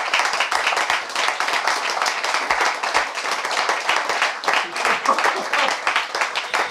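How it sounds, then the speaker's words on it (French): Dense, steady applause from a theater audience for stage manager Adrien, sustained for the whole stretch without easing. "Je vous demande d'applaudir très très fort Adrien"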